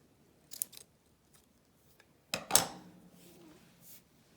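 Scissors snip through red yarn in a few crisp cuts, a light pair of snips early and a sharper, louder cut later, close and otherwise quiet.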